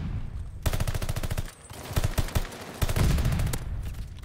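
Rapid automatic gunfire in a ranked-match shooter video game, loud dense bursts with short pauses between them, close and continuous, with no voices over it.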